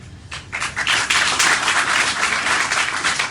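A crowd applauds the president at an outdoor Sierra Leone gathering, a dense, steady wash of many hands clapping that swells after a brief quieter start and stays loud throughout.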